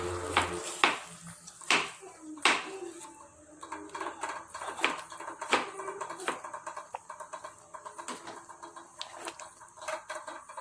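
Spoon scraping and clanking against a pan while palak puree is mixed into chicken masala, a steady run of close metallic taps and stirs, with no one speaking.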